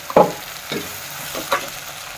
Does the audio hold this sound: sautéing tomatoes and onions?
yes